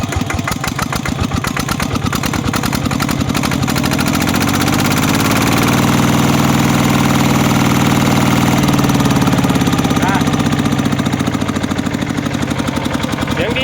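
A car engine idles steadily and loudly up close, with a continuous low rumble and rapid mechanical ticking that never lets up.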